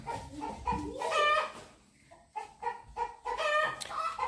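A rooster clucks and calls in short, agitated bursts at a moderate distance, with a pause in the middle before the clucking resumes.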